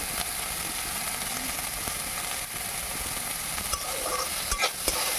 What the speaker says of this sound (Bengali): টমেটোটা দিয়ে ভালো করে নেড়েচেড়ে ভেজে নেব।